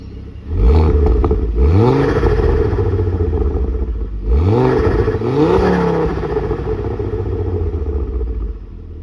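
Ford XR5 engine breathing through a 3-inch exhaust, revving loudly in two bursts with rising and falling pitch, close by, with no talking.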